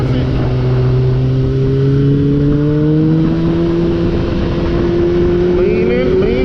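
A motorcycle engine revs under throttle while leaning through a constant left turn, a loud continuous drone whose pitch climbs steadily, heard up close with heavy wind rumble.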